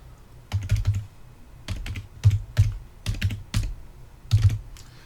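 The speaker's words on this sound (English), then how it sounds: "Just highlight it and type it in." Clusters of quick keystrokes on a computer keyboard come in short bursts with brief pauses between, close and fairly quiet, no talking.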